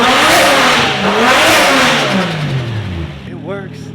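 A car engine revs hard and close after a backwards-installed MAF sensor was corrected, the pitch sweeping up and down through a couple of throttle blips before settling toward idle, with a voice briefly heard at the end.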